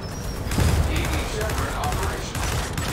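Gears of War 4 gunfire, a burst of rapid shots with a heavier thump, dense and loud, mixed with game effects and a player talking.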